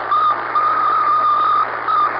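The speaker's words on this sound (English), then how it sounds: "This is the sound of Sputnik" The 1957 Soviet Sputnik satellite radio signal, a loud, steady electronic tone that keys on and off in long beeps separated by short gaps, over a faint hum and no voices.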